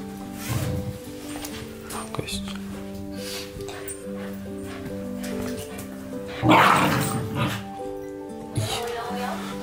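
A rescue dog trying on a harness for the first time barks in short bursts over background music, while people talk throughout.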